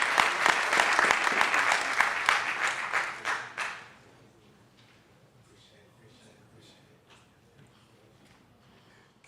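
Audience applause and cheering at a YouthBuild graduation ceremony as the keynote speaker comes forward, loud dense clapping for about four seconds that stops abruptly, followed by quiet room ambience with faint scattered sounds.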